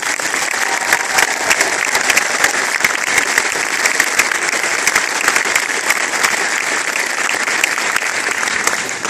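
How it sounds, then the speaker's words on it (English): Sustained, dense applause from a concert audience honoring the senior members of a marching band, loud and steady throughout with no talk over it. "let's have a round of applause for our seniors."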